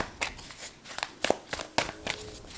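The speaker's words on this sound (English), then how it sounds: "I'm gonna give it a few more shuffles and see" A deck of reading cards is shuffled by hand in a quiet room, producing a string of soft, irregular riffles and taps spread over a couple of seconds, close and fairly faint.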